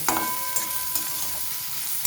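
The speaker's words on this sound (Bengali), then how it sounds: "পেঁয়াজটাকে আমি আগে কিছুক্ষণ ভেজে নেব।" Onions fry in hot oil in a pan for a sponge gourd dish, giving a loud continuous sizzle broken by a few sharp stirring scrapes.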